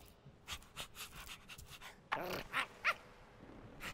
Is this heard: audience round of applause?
no